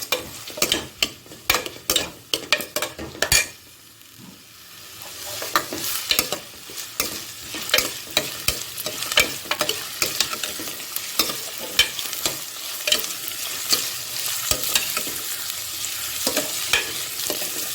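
Onions and crushed garlic sautéing in oil while a spoon stirs them, producing a run of sharp scraping clatters against the pan over a continuous crackling sizzle that swells and settles.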